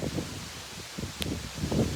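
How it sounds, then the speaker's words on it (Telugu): A sudden strong wind with rain blows outdoors, a dense rushing, rustling roar that swells in gusts and stays fairly loud throughout, with no one talking. "అకస్మాత్తుగా గాలి, ఓ గట్టిగా గాలి, దాని అమ్మటనే వర్షం చూడండి ఫుల్గా కొట్టేస్తుంది"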